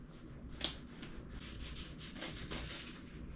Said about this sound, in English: I'm just taking my knife and just going to cut them all in half here